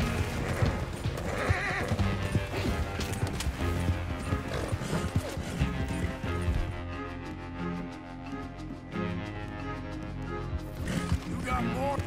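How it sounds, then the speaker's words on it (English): In Red Dead Redemption 2, horse hooves clip-clop at a gallop amid neighing and a dense, loud game soundtrack, with the mix thinning briefly partway through. "Come on, you stupid horse, move it."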